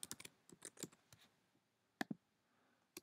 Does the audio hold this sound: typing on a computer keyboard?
yes